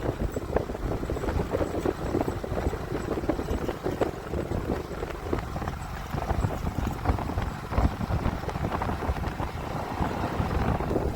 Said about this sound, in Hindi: देख सकते हो चेतक घोड़ा आ रहा है